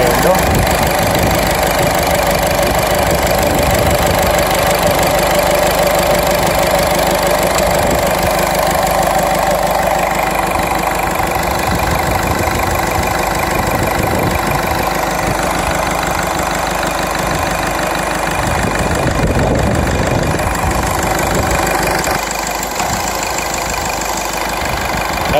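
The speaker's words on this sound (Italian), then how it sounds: "Adesso lasciamo il motore acceso per qualche minuto e vediamo quale iniettore ha utilizzato meno carburante." A Peugeot 107 1.4 HDi diesel engine idles during an injector test, producing a continuous, close and fairly loud rough diesel clatter and hum that stays steady throughout.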